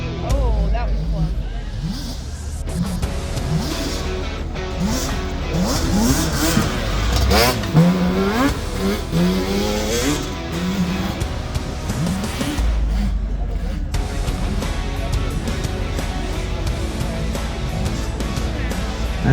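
ATV engine revving and accelerating on a competition ring course, rising and falling as the rider works the throttle, heard at a distance under ongoing announcer commentary.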